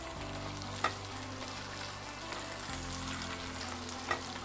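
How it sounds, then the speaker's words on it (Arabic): Small amounts of red and green peppers frying in a pan give a steady, close sizzle with a faint crackle and a few light pops, and no talk is heard. "هنزل بس هنا بشوية صغيرين من الفلفل الأحمر والأخضر"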